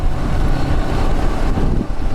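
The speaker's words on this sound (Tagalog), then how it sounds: "lakas ng hangin" Strong mountain wind near the Sierra Madre in Nueva Ecija roars across the microphone in a continuous low rumble, loud and steady with brief gusting swells.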